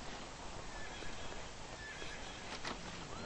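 Horses whinny in the Hitman Contracts video game, their calls rising over a dense, steady wash of game noise and hoofbeats, with a brighter whinny near the end.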